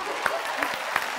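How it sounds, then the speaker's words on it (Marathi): Applause from a studio audience on a Marathi television variety show; a short burst of clapping noise with a few sharper claps standing out. "जोरदार टाळ्या होऊन जाईल."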